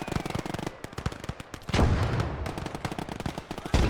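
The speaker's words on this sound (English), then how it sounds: "You've got a whole squad shooting at one dude in the window." Rapid gunfire from a whole squad in the WWII strategy game Gates of Hell: Ostfront, a dense stream of sharp shots and bursts with a heavier blast near the middle, loud and close with no talk.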